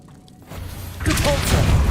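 A Depulso spell is cast in Hogwarts Legacy, a loud whooshing, booming burst that swells and holds near the end, with a voice speaking just before it.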